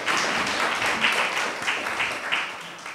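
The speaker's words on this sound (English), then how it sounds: "Let's give God a hand clap of praise one more time." Church congregation clapping hands in praise during a Sunday service, a sustained, loud wash of applause filling the room.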